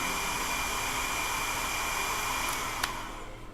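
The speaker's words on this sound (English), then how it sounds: "Having a blow dryer thing, it's a game changer, guys." A hair dryer blows continuously to dry freshly applied paint on Warhammer 40k miniatures, a loud steady rushing whoosh close to the mic that cuts off near the end.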